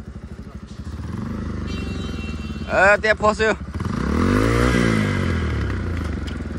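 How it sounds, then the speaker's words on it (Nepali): A motorcycle engine runs while riding on a rural route in Arghakhanchi, a steady loud putter with a rising rev near the end, as people speak briefly over it. "बाइकको साउन्ड चाहिँ यस्तो भयो"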